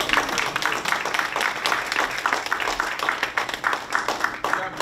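Scattered clapping from a small audience at a community hospital visit by a state governor, uneven and moderately close, with a voice briefly heard over it.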